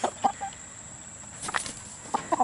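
Hens in a chicken tractor on a homestead, giving a few short, close clucks in small bursts separated by quiet gaps over a faint steady hum.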